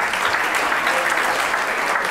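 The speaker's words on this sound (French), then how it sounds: "Oui, vous pouvez l'applaudir, effectivement." Loud, continuous applause from a crowd at a charity fundraising event, dense clapping that holds steady throughout with no speech on top.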